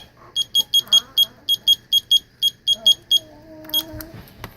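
Kitchen oven timer sounding while hot wings bake, a run of about a dozen sharp, evenly spaced electronic beeps in quick rhythm, loud and close, with a brief voice and kitchen clatter following.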